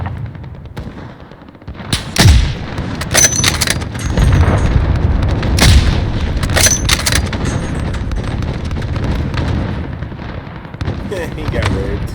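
Cruise missile strike and gunfire in a Modern Warfare ground war battle: heavy booms and sharp bursts of shots, near and loud, with rumbling aftermath, layered over game voices and players talking.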